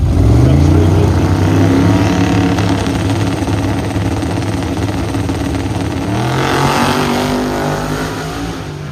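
A Ford Falcon race car with a 2.4 liter inline six revs loudly and close by, its engine note rising and falling as it holds high revs. The roar is steady and continuous.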